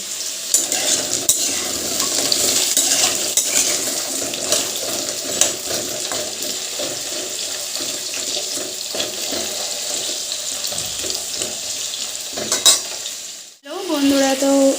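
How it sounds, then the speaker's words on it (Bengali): Potatoes fry in a pan with a busy, close sizzle and frequent stirring scrapes, and the frying sound breaks off briefly near the end before resuming. "তো চলো আলুটা ভেজে নেওয়া যাক"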